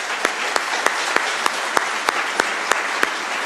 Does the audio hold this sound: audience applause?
yes